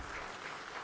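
Audience at a ceremony celebrating NGS Day applauding steadily, a dense wash of clapping hands filling the short moment.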